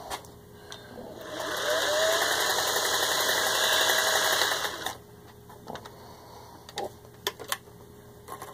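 A serviced vintage 1955 Singer 403A sewing machine running a blind stitch, a steady mechanical whirring hum for about three seconds, then stopping, followed by scattered clicks and taps.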